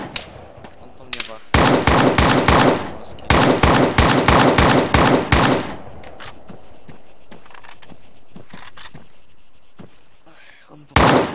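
Gunfire from the video game ArmA 3 crackles in loud rapid bursts, two sustained volleys of automatic fire followed by scattered single shots and softer reports.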